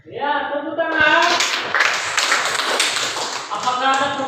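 Classroom pupils clapping hands together in a dense, lively burst for a few seconds, with a voice speaking just before and again as the clapping ends.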